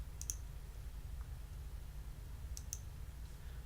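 Mouse clicks in QuickBooks accounting software, two quick pairs of crisp, close clicks separated by a couple of seconds, heard over a low steady hum.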